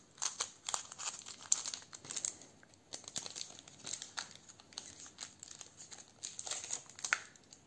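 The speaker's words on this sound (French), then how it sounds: "Comme d'habitude, j'ai mes ciseaux." Close, quiet crinkling and tearing of foil booster packs opened with scissors, with sharp snips and rustles in an irregular rhythm and no talking.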